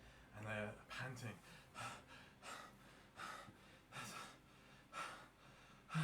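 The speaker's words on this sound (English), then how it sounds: "and they're panting." A voice acts out an exasperated, sweaty guard panting hard, with a run of about a dozen quick, breathy gasps that come close together at an uneven rhythm.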